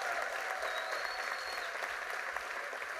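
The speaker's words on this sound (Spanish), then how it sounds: "un fuerte aplauso." Steady, enthusiastic applause from a large crowd fills the space, a dense wash of clapping with a faint whistle briefly rising above it.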